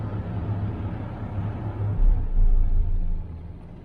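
A car engine holds a high idle, giving a steady, close low rumble that swells louder for about a second partway through before settling back, with no talking.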